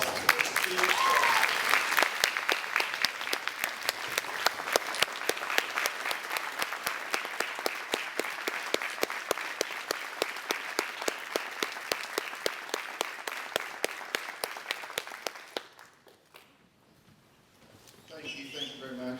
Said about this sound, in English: Let's give a rounding ovation, a round of applause to Steve Clark